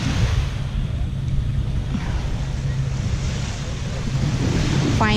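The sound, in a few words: waves on a white sand beach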